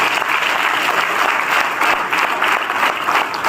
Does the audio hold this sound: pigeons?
no